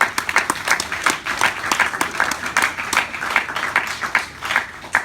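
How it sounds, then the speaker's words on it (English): Audience applause fills a Christmas performance at Camp Red Cloud, a steady crowd of clapping hands holding for several seconds at moderate distance. "let's give one more round of applause to everybody"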